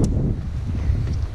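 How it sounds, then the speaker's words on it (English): Wind blows outdoors, buffeting the microphone with a low, rumbling roar and soft rustle for a brief moment. "It's been so windy, everything's been blowing away."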